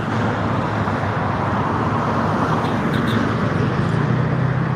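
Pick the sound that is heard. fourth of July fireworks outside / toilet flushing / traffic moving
traffic moving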